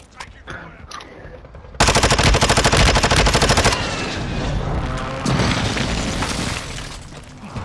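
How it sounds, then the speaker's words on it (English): A Call of Duty: Modern Warfare II precision airstrike erupts into a loud, sustained roar of rapid-fire blasts for about two seconds, then rumbling explosions and crackling gunfire continue afterward. Faint voices come before the strike. "Friendly precision airstrike inbound."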